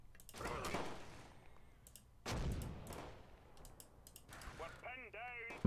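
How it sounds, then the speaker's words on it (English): Mortar fire in the Close Combat World War II strategy game, battle of Mouen: two heavy, booming blasts a couple of seconds apart, each with a rumbling tail, followed by a whistling, warbling tone, with scattered keyboard and mouse clicks. "he's bringing down mortars on my men over here"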